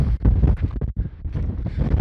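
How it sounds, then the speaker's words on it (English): Strong gusts roar across a rocky mountain trail at Windy Peak in Nevada's Rainbow Mountain Wilderness, buffeting the microphone in loud, uneven surges with a brief lull partway through. "navigating this rock is not too difficult, but wow, is it windy"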